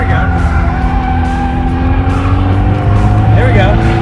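A 2011 Infiniti G coupe drifts through a donut, its tires squealing in a long, continuous, loud howl over the revving engine, with a voice talking beneath the noise.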